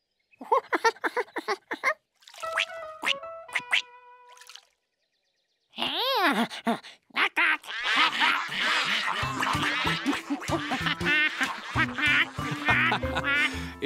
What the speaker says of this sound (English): There were real ducks.